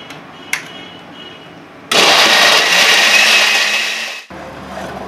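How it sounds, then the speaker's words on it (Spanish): A blender whirs loudly for about two seconds as it purees baby porridge, starting abruptly and cutting off sharply, with quieter room sound before and after and a single click near the start. "Y lo vamos a proceder a licuar."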